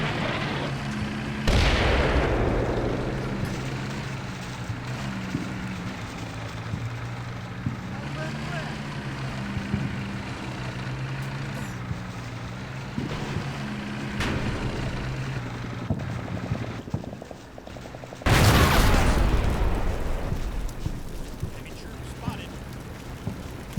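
Ranging artillery shots in the Combat Mission Black Sea video game: two heavy booms, one early and one later, stand out over a steady low engine-like drone and distant rumbling.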